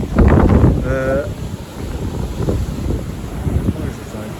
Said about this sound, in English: On the coast, you can see the waves crashing in.